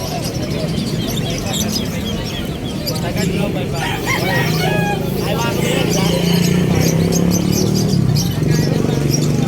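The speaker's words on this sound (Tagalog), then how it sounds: "Ang laki ng manok." Large rooster crowing amid the steady din of a busy outdoor pet market, with bird calls and clucking mixed into constant crowd chatter and voices throughout.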